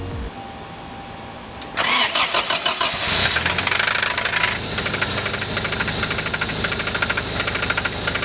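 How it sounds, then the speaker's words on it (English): A 1993 Toyota Celica engine cranks briefly, then catches and runs with a loud, rhythmic knocking that keeps repeating steadily at close range. "we went ahead and gave the car another start to see how it sounded."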